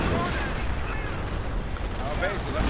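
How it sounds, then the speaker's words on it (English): Artillery fire in the Company of Heroes 2 strategy game keeps up a dense, continuous rumble of overlapping blasts and gunfire, steady and loud throughout with no quiet gaps. "Artillery blasting away at the Grenadiers and the bunkers."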